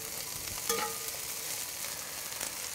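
Peppers and onion sizzle in a big hot pan on an outdoor grill, a dense continuous crackling hiss with a slightly louder spatter near the start.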